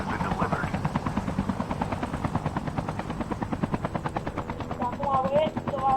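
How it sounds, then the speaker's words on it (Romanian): A helicopter in the Call of Duty video game thuds with rapid rhythmic rotor beats throughout, close and prominent, with bursts of gunfire and voices talking over it. "Mai vine unul cu elicopterul."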